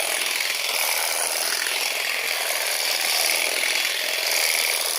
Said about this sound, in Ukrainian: Пробуємо зараз травечечку, як воно бере.